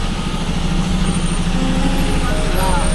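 A bus arrives on a rural Konkan road with a loud, steady diesel engine rumble and faint brake hiss, filling the whole stretch as voices murmur underneath.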